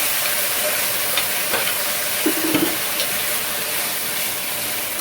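Soy sauce hits vegetables frying in a pan, giving a continuous even sizzle with a few soft stirring clinks and scrapes, and no talking.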